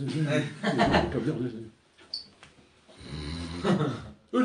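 A voice imitates a passenger snoring on a long flight, with a few drawn-out, rasping snore sounds mixed into lively spoken storytelling.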